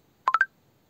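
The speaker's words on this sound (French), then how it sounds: "Mon portable s'affole, je reçois des petits messages, rien d'urgent." Three quick electronic beeps from a mobile phone message notification, rising slightly in pitch, short and close, with quiet room tone around them.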